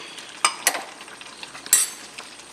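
Beaten rice (aval) is stirred in a pan with cashews and cardamom powder, giving dry scraping and rustling with a few sharper clinks of the spoon against the metal, close and moderately loud, with no talk.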